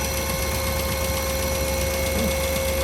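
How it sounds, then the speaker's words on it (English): A steady idling hum from an Alfa Romeo Giulia Quadrifoglio engine with a faint, rapid ticking from the fuel injectors running through it, close and constant throughout. "a little bit of ticking you hear, from my experience, is actually the fuel injectors"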